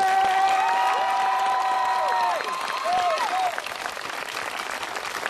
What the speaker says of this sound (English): Let's give the class of 2012 a round of applause.